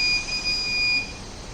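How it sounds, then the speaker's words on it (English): A motion sensor alarm buzzer sounds a steady high electronic tone, close and fairly loud, cutting off briefly and then stopping after about a second. "provide us the audible alert to the buzzer continuously"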